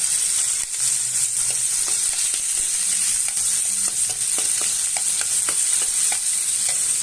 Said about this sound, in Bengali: এবার রসুনটা একটু ভাজিয়ে দেবো।